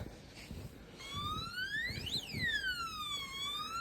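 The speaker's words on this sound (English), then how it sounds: "The alarm went off, which means it's working." An electronic alarm sounds on a farm during a snowstorm, a warbling, sweeping siren tone that rises and falls several times, faint and somewhat distant, with no talk.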